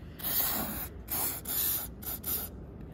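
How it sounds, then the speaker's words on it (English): Lubricant sprayed onto the rusty, gummed-up wheels of a 12 amp orange Fantom Fury vacuum comes in three close hissing bursts of about half a second each, with brief gaps between them and no talking. "I'm gonna spray down these wheels."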